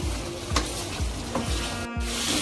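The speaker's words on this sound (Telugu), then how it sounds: "ఇప్పుడు చికెన్ ఫ్రై అవ్వాలంటే ఈ నీళ్ళన్నీ ఇంకిపోవాలండి" Spicy chicken frying in oil as its water cooks off, a close, steady sizzle with soft scraping stirs and a few clinks, no voices.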